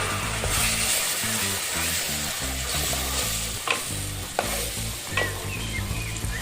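Pointed gourd (potol) fries in a pan with spices, hissing and sizzling continuously while a utensil stirs it in repeated scraping strokes, close and steady.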